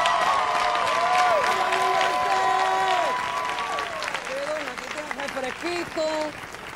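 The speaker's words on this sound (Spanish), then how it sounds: "Un aplauso para Berenjeno" A comedy club audience at Club Sunshine applauds and cheers comedian Berenjeno, with steady loud clapping and whooping voices throughout that ease slightly toward the end.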